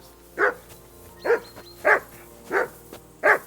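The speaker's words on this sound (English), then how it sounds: "I assume you can hear that damn dog of yours barking." A dog in Kingdom Come Deliverance II barks five times in a steady, evenly spaced rhythm, each bark short and sharp, fairly close, with quiet ambience between.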